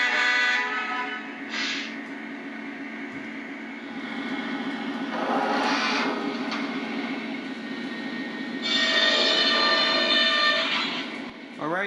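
A small model train led by an NS SD38 locomotive hums and clatters along its track during switching, with a steady rumble, a couple of brief whistle-like tones and some voice underneath.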